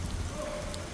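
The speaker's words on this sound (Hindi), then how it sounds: "खूब बारिश हो रही है।" Heavy rain falls steadily near a fish market in Riyadh, a dense, even hiss of drops with a brief patter, loud and continuous with no voices.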